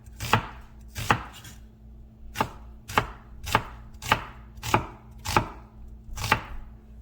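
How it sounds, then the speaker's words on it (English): Onions are julienned with a knife on a cutting board: nine crisp, evenly spaced chops land at a steady, unhurried pace, close and clear with no talk. "julienne your onions"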